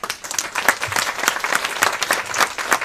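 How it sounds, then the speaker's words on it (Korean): Lecture audience at a special talk claps in a brief, uneven round, individual hand claps standing out against a moderate crowd patter. "박수 한번 쳐봐"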